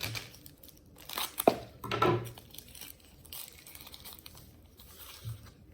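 Plastic bags from a DJI Osmo Pocket 3 magnetic filter kit crinkle and rustle close by during unboxing, with a few sharper crackles and soft handling noises in between, fairly quiet overall.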